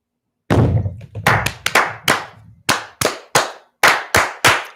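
A group of Masons claps in unison at a lodge gathering, about a dozen sharp, loud hand claps: a ragged cluster at first, then settling into an evenly spaced rhythm with clean silences between claps.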